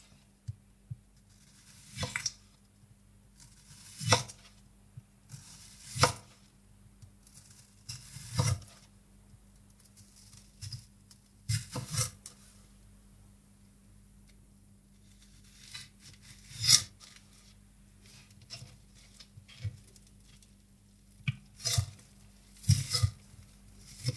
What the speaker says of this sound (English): before that, a lot of slicing and dicing.